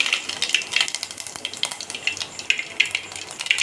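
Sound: cumin and mustard seeds sizzling in hot oil

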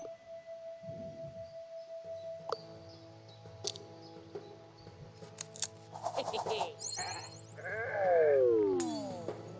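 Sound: sheep bleating in the video game Renowned Explorers

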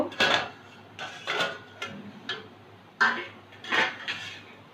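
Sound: lid lifted off a steamer pot of dhokla

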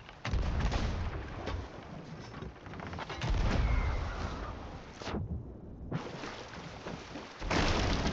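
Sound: ship cannon fire in a pirate video game

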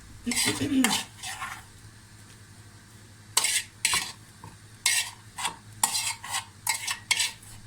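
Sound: serving curd cheese and fried onion from pan onto plate

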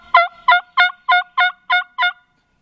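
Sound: turkey gobbling

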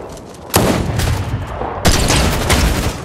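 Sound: gunfire in the video game Fortnite

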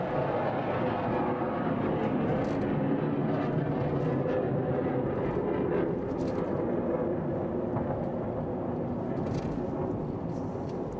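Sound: plane taking off from Oceana Naval Base, flying overhead

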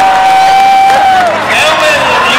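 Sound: rodeo crowd cheering

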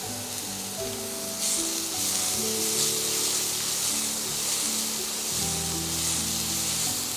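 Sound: amla (Indian gooseberry) frying in a pan

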